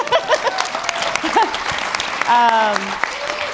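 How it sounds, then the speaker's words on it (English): An audience gives a round of applause at a talk on Canada's North and the Arctic, clapping steady and fairly close, with people speaking over it. "So they deserve a round of applause."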